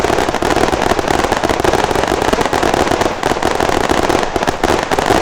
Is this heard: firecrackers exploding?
yes